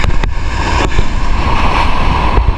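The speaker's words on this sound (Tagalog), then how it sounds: "medyo maliit lang yung alon pero tataas yan" Small ocean waves at a shoreline spot, with a steady loud wash of surf mixed with heavy wind buffeting and a few sharp knocks.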